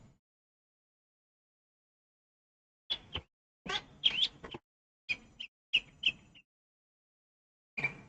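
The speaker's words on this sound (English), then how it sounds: "listen to the birds outside" Several short bird chirps from outdoors, scattered in brief bursts after a few seconds of near silence, faint and somewhat distant.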